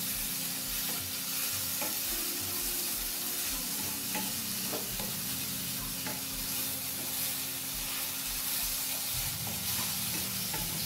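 Potato and paneer sabudana khichdi sautéing in a pan, with a steady sizzle and frequent soft scraping stir strokes, close and continuous throughout, no talking.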